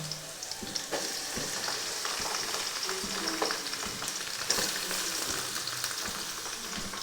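Vegetables and carrots fry in hot oil in a pan, a steady close sizzle with occasional stirring scrapes and clicks running throughout, no voices.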